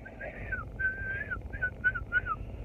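Someone whistles a short, wavering tune, a series of brief high notes, soft and close, over a low background hum.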